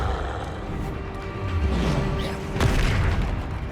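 A Depulso spell is cast in a Harry Potter video game during a fight near a troll, giving a loud booming blast with crashing debris over continuous game noise, swelling again in a second burst near the end.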